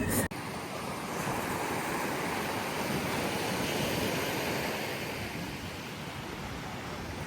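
Ocean surf rolls onto a beach at Le Moule, Guadeloupe, a steady broad wash of breaking waves mixed with wind rumble on the microphone, continuous and fairly loud with no voices.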